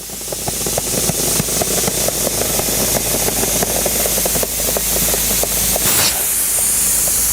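An air bag jack is pumped up with a loud, steady hissing rush of air and a rhythmic pulsing, ending with a sharp release burst near the end.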